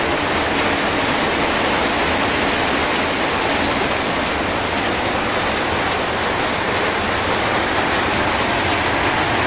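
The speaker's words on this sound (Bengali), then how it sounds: "বাহিরে প্রচুর পরিমাণে বৃষ্টি হইতেছে" Heavy rain pours steadily outdoors in a dense, unbroken hiss with a low rumble beneath, like water streaming off roofs, loud and constant throughout with no voices.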